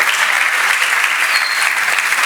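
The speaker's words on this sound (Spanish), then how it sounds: "Fuerte aplauso para Fer" Audience applause at a university event, a brief burst of dense, even clapping from many hands that fills the space loudly without breaks.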